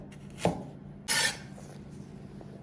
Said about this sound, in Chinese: 姜呢，给它切成片，